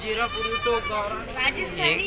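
Goats bleat at a livestock market, several wavering cries close by, mixed with people talking.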